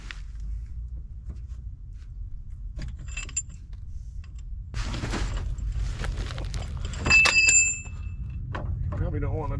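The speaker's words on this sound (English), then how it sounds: "Now we're going to pull the carrier out." A differential carrier is worked out of a Jeep Dana 30 front axle, giving scattered metallic clinks, scrapes and knocks of parts and tools over a low background hum, with someone talking over the work.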